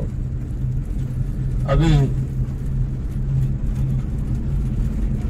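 Road traffic on the way to Konark near Puri, a steady low rumble of passing vehicles with a brief horn-like tone, while someone talks briefly over it.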